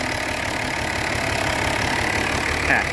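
A machine's engine idles steadily while left in first gear near a shrimp pond, a constant mid-to-low rumble with a faint knocking texture, close and even throughout with no talk.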